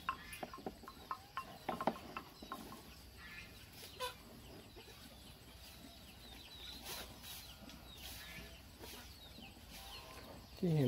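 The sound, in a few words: chickens clucking near cow feeding trough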